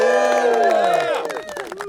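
Wedding guests burst into loud cheering and whooping, with a few voices rising above the crowd before it breaks into scattered clapping over about two seconds.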